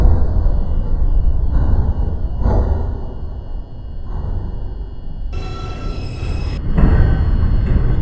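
An R142 subway express train on the 2 line, bound for Wakefield, sits at the elevated 3rd Avenue–149 Street station in New York, with a loud, continuous rumble, whooshing air and bursts of mechanical noise.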